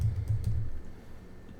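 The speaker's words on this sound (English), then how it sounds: "just to type it out quickly" Quick typing on a computer keyboard while entering an email address into a registration form, a short burst of soft low clicks in the first half that then fades into quiet.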